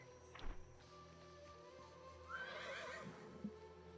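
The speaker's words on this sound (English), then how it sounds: "Oh, I heard a horse." A horse in a video game whinnies midway through, a clear neigh over soft hoof clip-clops and a low ambient game hum.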